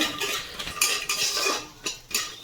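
Clattering and scraping of a utensil against a pan dominate, with faint sizzle beneath, as lentil dumplings (bori) fry in leftover fish-frying oil while making a pabda fish curry with eggplant; irregular metallic clinks close by.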